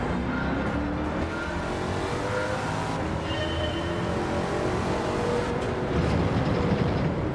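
A Chaparral race car in Gran Turismo 7 runs steadily and close throughout, with engine drone and shifting tonal whine, a faint high squeal midway and a slight swell near the end.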